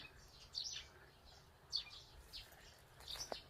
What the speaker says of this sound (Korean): 지금 영상을 촬영하는 내내 새소리가 아주 좋기 좋습니다.